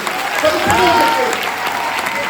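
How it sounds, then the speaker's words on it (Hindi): Loud audience applause rolls through an indoor gathering held for girls and women, dense and steady from start to finish, with voices rising over the clapping. "करोड़ की जोरदार तालियां।"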